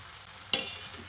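Fried taro and potatoes tipped into spice paste cooking in oil give one sudden sharp sizzle burst, then a fading hiss over a faint background.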